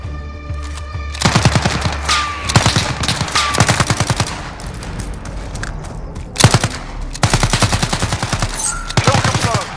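Machine gun fire rattles in Call of Duty: Modern Warfare, with repeated loud rapid bursts and short pauses between them, close and dominant throughout.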